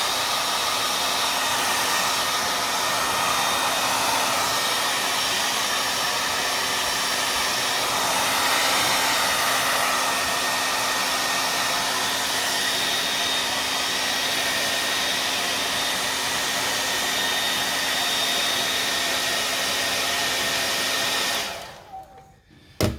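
Heat blower warming the butyl sealant on a 2011 Toyota RAV4 headlight, a loud, steady airy whir held for about twenty seconds before abruptly shutting off.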